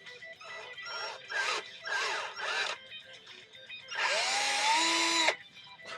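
A power drill with a 7/16 drill bit bores into a plastic mini dart blaster, heard up close as several short whirring bursts, then one longer, louder spin whose pitch climbs and then drops as it cuts.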